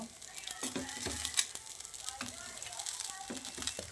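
Rice being stirred with fried paneer in a hot pan, giving soft scraping stirs and a light sizzle, quiet and close, with a voice speaking over it.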